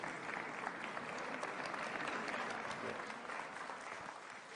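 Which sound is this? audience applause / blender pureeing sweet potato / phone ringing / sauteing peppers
audience applause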